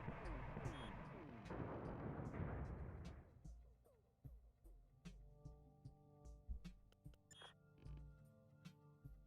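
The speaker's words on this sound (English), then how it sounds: "just keep firing missiles" Missiles fire in the space game Shortest Trip to Earth, giving a dense rumbling barrage that fades into scattered sharp pops and bursts, under faint talk.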